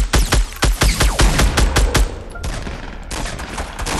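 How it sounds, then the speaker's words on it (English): Loud rapid bursts of automatic gunfire from the video game Fortnite, a dense string of close shots for about two seconds, then a quieter stretch of distant scattered fire. "No, you're shooting at me."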